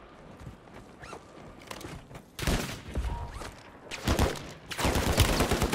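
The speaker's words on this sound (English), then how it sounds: "Taking fire!" Gunfire crackles in the Warzone Season 2 video game, with scattered bursts that swell into loud, sustained volleys in the second half over faint background noise.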